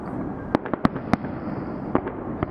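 Fireworks going off at a distance over Sydney Harbour, a quick series of sharp bangs and pops scattered irregularly over faint ambient noise.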